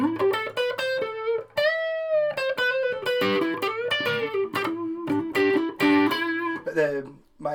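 An electric guitar plays through an amp's light distortion channel, channel 2, producing a run of sustained, harmonically rich notes and chords with brief gaps between phrases.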